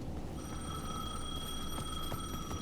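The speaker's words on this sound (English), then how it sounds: "The payphone at the edge of the plaza was ringing again." A payphone at the edge of a plaza rings in the video game Alan Wake 2, a steady electronic bell tone held over a low, dark ambient drone.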